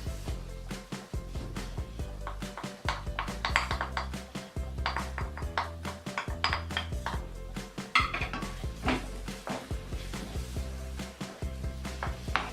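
Mango pieces being stirred into a mango ladoo mixture of desiccated coconut, with a utensil clinking and scraping steadily against a bowl or pan under a constant background hum, no talking.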